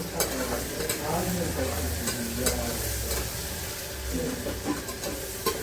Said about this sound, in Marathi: झालं थोडंसं जरा लालसर होऊ देते फोडणी.